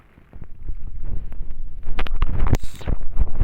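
Gusts of wind buffet the microphone outdoors at a rainy lakeside fishing spot at Rawa Pening, with low rumbling and rustle that grow stronger partway through, with no talking.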